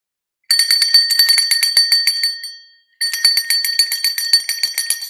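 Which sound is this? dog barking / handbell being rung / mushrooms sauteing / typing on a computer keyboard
handbell being rung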